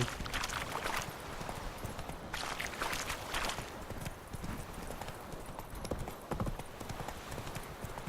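Roach, the horse in The Witcher video game, clops along with steady, even hoofbeats, close and continuous over ambient game sound, with faint talk in places.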